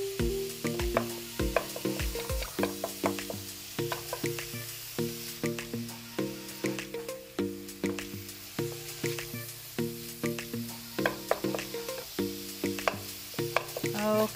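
Taco meat sizzling and frying in a pan while it is stirred, a steady crackle with a repeating scraping rhythm, close and continuous, with no talk.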